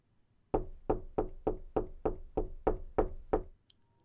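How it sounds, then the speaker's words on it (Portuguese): Knocking on a door as a story sound effect: nine firm, evenly spaced knocks ring out clearly, alone and close. "um dos policiais criou coragem e bateu na porta."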